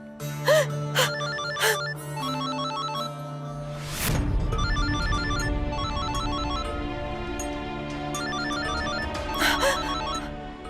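A telephone rings in a Turkish TV drama scene, its electronic ringtone repeating in short patterned bursts over a swelling musical background, with no talking.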